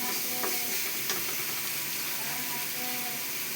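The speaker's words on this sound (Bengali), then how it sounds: "দেখুন মশলাটা আমার প্রায় ভাজা ভাজা হয়ে যাচ্ছে, কারণ মশলা থেকে তেল ছেড়ে দিয়েছে।" Spice paste with sesame seeds fries in oil as it browns, giving a soft continuous sizzle with a few brief stirring scrapes, fairly faint and close.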